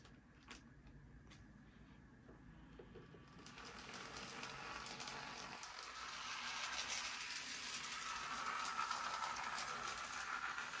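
An N scale Athearn Amtrak F59PHI model locomotive runs on a layout, starting as a faint whir and clicks, then a rising electric motor whine and rattling wheel noise that grows louder as it approaches.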